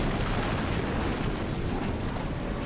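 Dense, continuous rumbling roar of heavy bomb explosions in a video game, booms blending together into a loud wall of noise without pauses.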